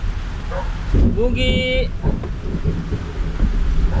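Thunder during a storm brings a deep, rolling rumble and a steady wash of rain noise. People talk close by, a short whining tone rises briefly through the middle, and a voice calls out once.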